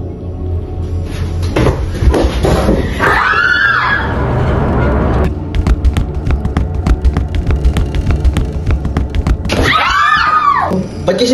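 Several people scream in fright in two shrill bursts, close and loud, amid clattering, thumping footsteps and rustling.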